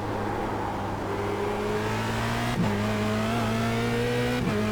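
A Formula Renault 2.0 race car at speed around Zandvoort, its engine droning loud and steady with two sharp gear shifts, heard from on board.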